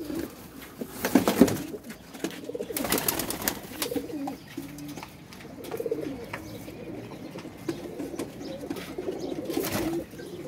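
Pigeons coo repeatedly in low, soft murmurs with occasional wing flutters and rustling nearby, several birds overlapping with no talking.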